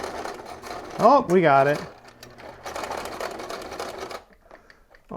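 A sewing machine stitches through three layers of fabric in a steady, rapid mechanical run that briefly pauses while a person speaks, then resumes before stopping.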